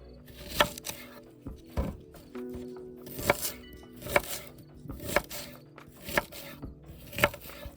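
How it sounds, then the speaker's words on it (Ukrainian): Four large onions are sliced into half rings for a shashlik marinade. Around eight crisp knife strikes hit the cutting board at a fairly regular, unhurried pace, close up and with no one talking. "Для початку беремо 4 великі цибулі і нарізаємо півкільцями."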